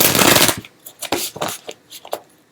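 Tarot cards are shuffled close by in loud riffling bursts, followed by several quick, lighter flicks and slaps as individual cards are pulled from the deck.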